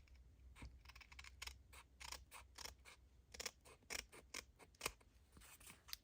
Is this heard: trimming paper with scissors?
yes